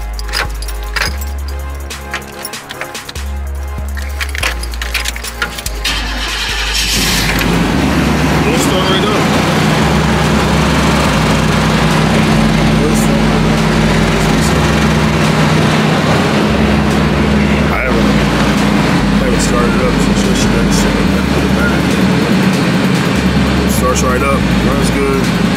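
A junk, fuel-injected Chevy Caprice cranks and fires after some talk and clicking. The engine then settles into a loud, steady, rumbling idle that runs on for many seconds.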